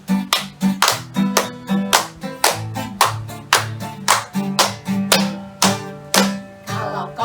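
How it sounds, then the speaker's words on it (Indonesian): Children clap hands in a steady rhythm along to a Sunday school song, about two claps per second, crisp and close, repeating throughout with a low melodic tone underneath. "Kalau kau suka hati tepuk tangan."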